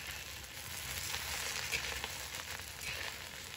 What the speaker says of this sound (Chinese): 我们把包菜放入锅中，来回翻炒半分钟或者1分钟